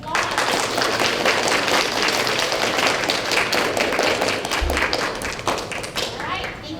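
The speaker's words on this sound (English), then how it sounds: "let's give this group of persevering fifth graders a big round of applause" Loud, sustained applause fills a school fifth grade celebration as an audience claps for the students, a dense continuous patter with a few thumps mixed in.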